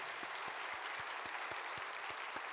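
At a Korean church praise service, a congregation breaks into sustained applause: a dense, constant clatter of hands over a steady, evenly spaced low beat that keeps time under the clapping.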